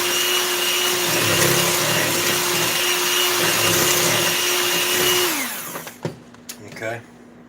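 An electric hand mixer beats Dundee cake batter in a bowl with a steady, loud motor whir for about five seconds, then winds down and stops, followed by a few clanks and light handling sounds.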